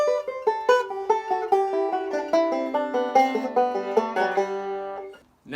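Banjo roll lick picked lightly and evenly, a steady stream of bright plucked notes ringing over one another at moderate loudness, played alone and ending with a short pause.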